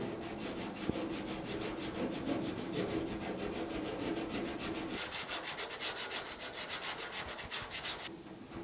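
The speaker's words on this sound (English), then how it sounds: "You saw me using stir stick with sandpaper, a hacksaw blade, whatever you need to do to just kind of rough it down" Sandpaper wrapped on a stir stick, plus a hacksaw blade, roughs down body filler on the headlight bezel gaps of a GTO restomod. Fast, rhythmic back-and-forth rasping strokes, loud and close, run continuously and stop near the end.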